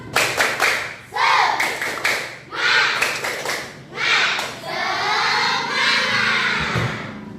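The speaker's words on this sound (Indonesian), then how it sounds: "Ibu mau semuanya tepuk semangat" Classroom pupils perform a rhythmic clapping chant, bursts of patterned group clapping with chanted voices, ending in a long sustained shout from the children.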